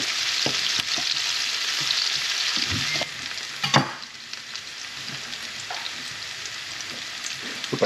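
Vegetables frying in heated olive oil in a pan, a steady close hiss of sizzling with occasional stirring clatters, louder for the first few seconds then settling to a softer crackle.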